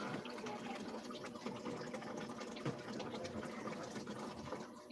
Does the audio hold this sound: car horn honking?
no